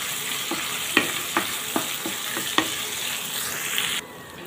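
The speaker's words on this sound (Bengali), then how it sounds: "পেঁয়াজ আর মরিচটাকে আমি একসাথে দিয়ে দেব, দিয়ে একটু ভেজে নেব" Onions and chilies frying in plenty of fat with a steady sizzle, broken by several sharp scraping clinks of a spoon stirring the pan, up close with no talking.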